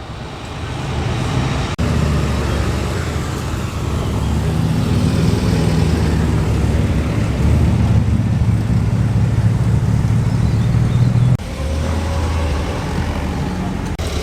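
Classic cars roll past at an outdoor show at Gawsworth Hall, including a Porsche 356 and a little Wolseley Hornet, producing a steady, loud low engine rumble and road noise that swells and shifts over about fourteen seconds.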